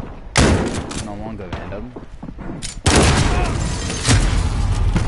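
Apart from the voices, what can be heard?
shotgun fire in Call of Duty Modern Warfare video game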